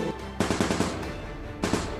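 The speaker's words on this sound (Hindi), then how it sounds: "थोड़ी ही देर में उसकी कार पर फायरिंग होनी शुरू हो गई।" Bursts of gunfire strike a bulletproof car, with two clusters of rapid, loud shots separated by a rumbling pause.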